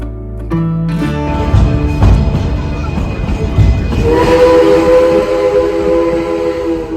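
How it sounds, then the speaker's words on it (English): A loud train rumbles past close by, with clattering wheels and a sustained horn blaring over the noise in the second half. "Just waiting for the train to take us back."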